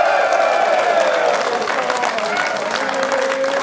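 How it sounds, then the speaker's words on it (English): A live studio audience at a sports talk show cheers and claps in a steady, loud crowd roar, with some tonal sound running through it. "We've also got a live studio audience."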